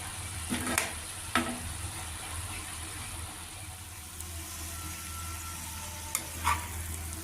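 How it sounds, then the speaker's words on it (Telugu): Spring onions and sliced onions frying in a pan, a low steady sizzle with a few sharp clinks and scrapes of a spoon against the pan, alone and fairly quiet. "ఉల్లికాడలు ఉల్లిపాయలు కలిసి మగ్గుతున్నాయి"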